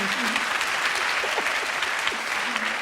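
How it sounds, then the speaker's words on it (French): Audience applause at a stand-up comedy show fills the room as a thick, steady roar of clapping, with voices talking over it throughout. "Merci pour cette tentative d'applaudir."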